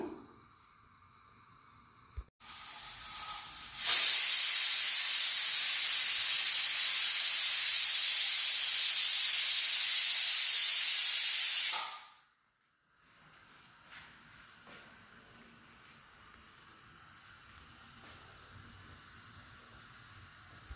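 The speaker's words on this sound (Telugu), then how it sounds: "ఆవిరి వచ్చాక విజిల్ పెట్టుకుందాము." A loud, steady hiss of steam from a pressure cooker on a stove bursts in after a quiet start, holds for about eight seconds, then cuts off abruptly, leaving faint background noise.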